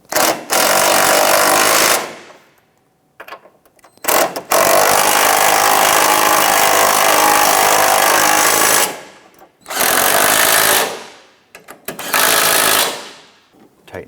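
A power tool runs in loud, close bursts of about two to five seconds each, with short silent gaps between them, while cross brace bolts on a Ford Five Hundred are tightened.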